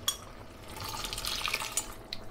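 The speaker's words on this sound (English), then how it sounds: "So I'm gonna add another quarter pint of water" Water pours into a pan of simmering chicken risotto, a steady liquid splash lasting a couple of seconds with no talking.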